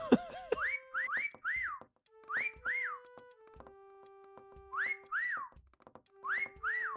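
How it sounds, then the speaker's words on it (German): Repeated rising-and-falling whistles in the video game Meccha Chameleon, bright tonal chirps in short bursts with brief gaps, layered over steady electronic tones and no talking. "Die scheiß Pfeiferei müssen wir ausschalten können."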